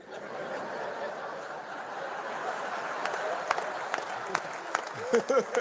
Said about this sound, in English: what are you clapping at?